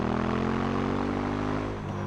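A KTM 1290 Super Duke R with a stock exhaust gives a loud, close, continuous throaty drone at a steady pitch that eases slightly near the end, with no talking.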